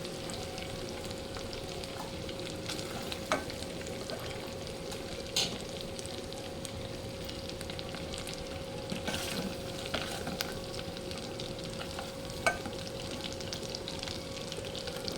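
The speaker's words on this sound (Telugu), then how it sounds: "ముందుగా ఎగ్స్ వేపుకుందాం." Steady sizzling and crackling of eggs frying in a pan, constant and fairly quiet, with a few soft clinks and no voices.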